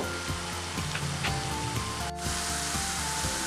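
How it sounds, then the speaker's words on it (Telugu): Onions frying in a pan until golden brown while a prawn and raw mango curry is cooked, giving a steady, close sizzling crackle throughout with no talk. "ఆనియన్స్ని గోల్డెన్ బ్రౌన్ కలర్ వచ్చే వరకు వేయించుకోవాలి"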